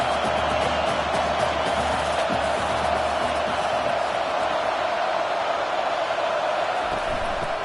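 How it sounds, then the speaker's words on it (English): Steady, roaring crowd noise fills a stadium on third down in a college football video game featuring Kansas State, a dense continuous wash of cheering with no clear breaks. "Decibels rising as the crowd gets behind this defense on third down."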